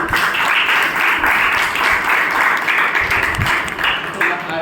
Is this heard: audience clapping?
yes